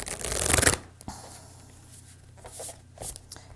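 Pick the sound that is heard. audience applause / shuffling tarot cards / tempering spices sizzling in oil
shuffling tarot cards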